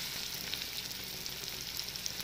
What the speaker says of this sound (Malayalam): റൈസ് ബ്രാൻ ഓയിൽ ഇതാ ചൂടായിട്ട് വരികയാണ് അതിലേക്ക് ഇട്ട് നമുക്ക് നന്നായിട്ട് ഒന്ന് വറുത്തെടുക്കാം